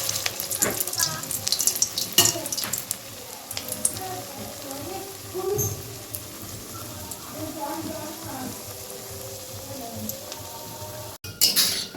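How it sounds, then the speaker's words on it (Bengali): Soybean muitha dumplings frying in hot oil in a kadai over a medium flame, a steady sizzle broken by sharp clinks of a utensil against the pan, with faint talk in the background. "এবার গ্যাসটা মিডিয়াম রেখে আমি এই সয়াবিনের মুইঠাগুলো সব ভেজে নেব।"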